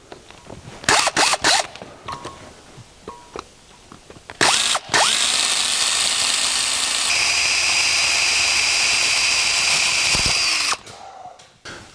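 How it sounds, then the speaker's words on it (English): A power drill bores a hole through the metal shaft of a door handle on a 1949 Chevrolet gasser, starting with short stuttering bursts, then running as one loud, sustained whine for several seconds before stopping abruptly. "what we're going to do is drill the corresponding hole through the shaft of the handle"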